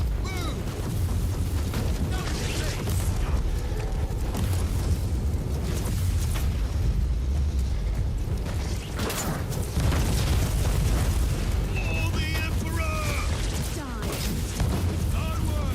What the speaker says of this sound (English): Explosion, you can explode the barrel to give you the advantage.